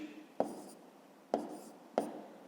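Pen or chalk strokes while writing numbers during a fifth-grade math subtraction problem: three sharp scratchy taps, each followed by a short scraping trail, close and fairly quiet.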